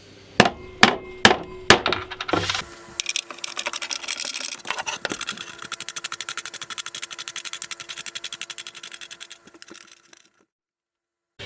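Hammer tapping M8 T-nuts into wood for a DIY drill press drum sander, four sharp spaced knocks followed by a steady rapid rattling run that stops abruptly into silence.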